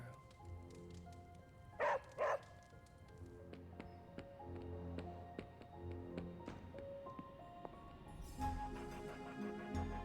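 Charlie, a dog in Marvel's Midnight Suns, lets out two quick barks in close succession, clear over soft background game music that continues afterward.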